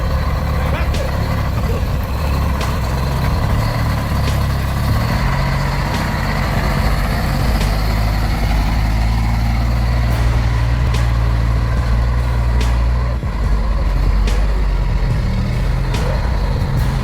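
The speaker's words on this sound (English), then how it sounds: "This legendary truck, with its muscular appearance and durable pulling power, is leaving the loading yard after being full of its load." A heavy logging truck fully loaded with wood pulls out of a loading yard, its deep diesel engine rumbling loud and steady throughout, with faint periodic clicks above the drone.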